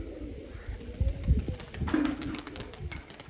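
Pigeons coo softly and steadily, low throaty calls repeating close by with a rustling background.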